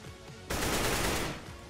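Gunfire in CS:GO, a short rapid automatic burst lasting under a second that cuts in sharply over quieter background game sounds, loud and close, then trails off.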